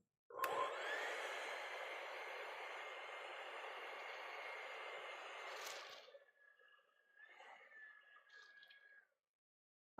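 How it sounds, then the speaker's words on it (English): A hairdryer drying acrylic paint blows with a steady, loud whoosh for several seconds, then cuts off, leaving a fainter whine that trails away. "So I'm going to dry this real quick. Let's see, I have a hairdryer somewhere."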